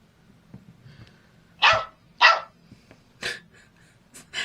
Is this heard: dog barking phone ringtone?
yes